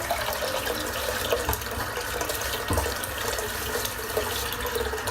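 Tap water running steadily into a sink while a razor is rinsed under it, a continuous close splashing hiss with small irregular knocks and gurgles, no talking.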